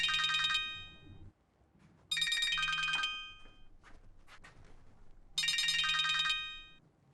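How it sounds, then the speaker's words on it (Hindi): A mobile phone ringtone plays in repeated bursts, a bright chiming melody sounding three times with brief quiet gaps between, fairly clear and alone. "कब से तेरा फोन बज रहा है?"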